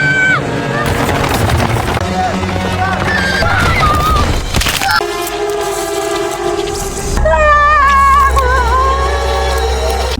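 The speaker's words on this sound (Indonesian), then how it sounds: "seekor kuda mengamuk dan tak terkendali" A horse neighs and whinnies repeatedly as it rampages out of control, loud and close amid a busy, noisy scene with rumbling background and some voices.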